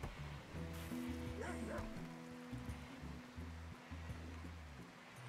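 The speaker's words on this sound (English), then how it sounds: "The dogs are calling." Dogs in a video game give a few barks and yips with whimpering, fairly faint, over a steady wash of ambient water-like noise, and no one speaks.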